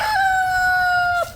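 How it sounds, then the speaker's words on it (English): A rooster crows once, loud and close, a single drawn-out call lasting just over a second before cutting off. "I don't know rooster talk, but he loves to talk."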